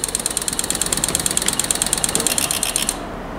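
A moped engine, just after carburetor and float work, turns over in a rapid, even chugging rhythm close by for about three seconds, then cuts off abruptly.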